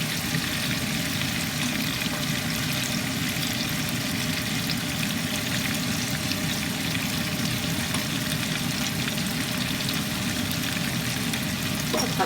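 Peppers fry in butter and oil with thyme and garlic in a pan, giving off a steady, close hiss and crackle that continues evenly for about twelve seconds with no talking.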